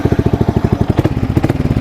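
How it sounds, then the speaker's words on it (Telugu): Motorcycle engine idling close to an unfiltered microphone, a loud, rapid, regular thumping pulse that stays steady with a brief rise midway. "నేను ఇప్పుడు ఒక సౌండ్ వినిపిస్తాను మీకు బండి స్టార్ట్ చేసి"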